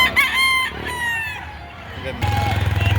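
A rooster crows nearby at a chicken market in Batangas, its drawn-out call rising and wavering, followed by engine-like rumbling and clucking, with people talking in the background.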